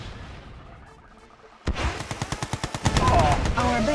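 Gunfire in the strategy game Red Alert 2: Yuri's Revenge: a quiet stretch, then a sudden loud burst of rapid rhythmic shots, about a dozen sharp reports in quick succession, swelling into denser firing with explosions toward the end.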